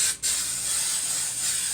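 Baker's Joy baking spray hisses from an aerosol can onto baking pans, one brief puff followed by a longer steady close spray.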